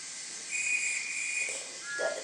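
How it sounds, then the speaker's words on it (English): A conductor's whistle sounds beside a steam tank engine, one long steady shrill blast over a hissing background, then a second, shorter tone near the end. "The conductor blew his whistle."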